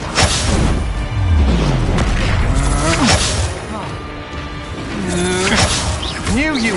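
A Confringo spell going off in Hogwarts Legacy combat, a loud booming blast surrounded by crashes, whooshes and sweeping magical tones, with voices calling out over the steady din of battle.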